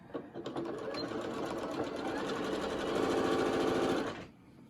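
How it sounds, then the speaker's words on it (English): Household sewing machine running steadily as it stitches across the top edge of a fabric health care face mask, a close, continuous mechanical whir that speeds up slightly before stopping abruptly. "And we're just going to sew across the top of the mask."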